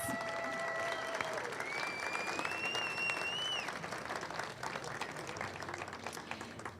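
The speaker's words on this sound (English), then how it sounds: "Let's give them another round of applause." Audience applause at a high school ribbon cutting ceremony fills the air as a steady dense patter of many hands, fairly faint and distant, with thin whistle-like tones gliding over it partway through before the clapping gradually thins.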